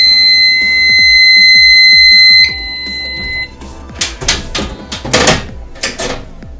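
A fire alarm system with a smoke detector and pull station sounds a loud, steady electronic tone that cuts off abruptly partway through, followed by clicks, knocks and handling noises close by.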